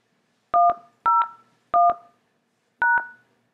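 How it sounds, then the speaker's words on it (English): Telephone keypad DTMF tones dialing an extension, four clear two-tone beeps in a row, each a quick double pulse, with a longer gap before the last, heard alone in silence. "If you know your party's extension, please dial it now."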